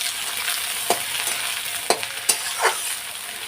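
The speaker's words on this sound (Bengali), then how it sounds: "তো এই যে পেঁয়াজ কুচুনোটাও দিয়ে দিলাম" Chopped onion with cumin frying in oil in a home pan, a continuous close crackling sizzle with several sharp spatters and utensil taps, no voices.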